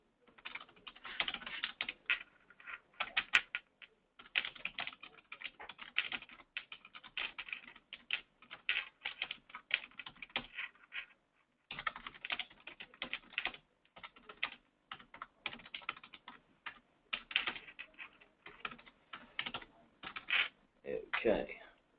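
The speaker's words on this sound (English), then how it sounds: "what I'll do is just free type a message" Fingers tap out a message on a computer keyboard in quick, irregular bursts of close, crisp key clicks, with brief pauses between runs.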